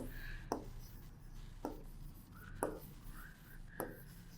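Faint pen or marker strokes drawing a dermal-layer sponge diagram during a biology lesson, with soft scratching and a few sharper taps at irregular intervals in a quiet room.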